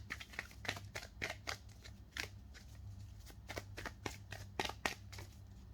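Tarot cards shuffled and drawn from a deck during a pick-a-card reading, giving a steady run of crisp riffling and flicking snaps close by, with no talking over them.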